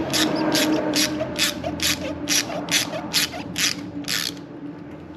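Ratchet tightening bolts during a motorcycle heel shifter install, giving nine evenly spaced, crisp clicking strokes, close and fairly loud, before stopping.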